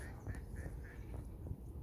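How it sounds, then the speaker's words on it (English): A few soft duck quacks sound at a distance, spaced apart over a low background rumble, as ducks sit sheltering by an icy, snowy river. "There's all the ducks"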